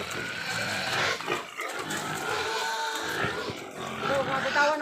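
A pig being slaughtered for a wedding feast squeals loudly and continuously at close range, high shrill cries rising and falling, while people talk nearby.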